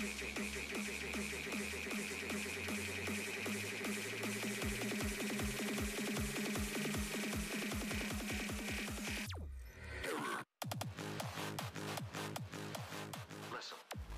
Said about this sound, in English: This is the sound of a classic drum machine.